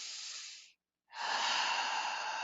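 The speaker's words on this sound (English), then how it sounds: "Breathe with me, child." Slow, deep breaths taken close to the mic: a long airy exhale, a brief silent pause, then a fuller, louder inhale that holds steady to the end.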